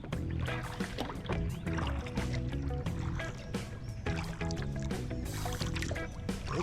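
Kayak paddling on Brice's Creek, with soft, repeated splashes and drips of the paddle in the water over a faint background of music or ambience, fairly close.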